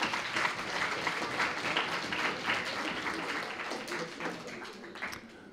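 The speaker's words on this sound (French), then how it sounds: "on peut applaudir Petroni pour cette action" Audience at the final of an eloquence contest breaking into applause, a dense, steady patter of many hands at moderate loudness that fades slightly toward the end, with voices mixed in.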